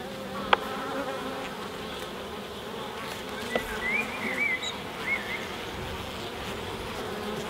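Honeybees buzzing steadily around an open hive during a colony inspection, a close, continuous drone with individual bees swelling louder as they pass near, plus a couple of sharp knocks from handling the hive.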